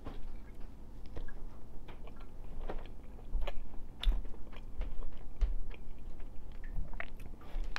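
Someone eats a mug bread pudding topped with strawberries, giving soft close-up biting and chewing sounds with small crunchy clicks, steady and quiet over about eight seconds, with no talking.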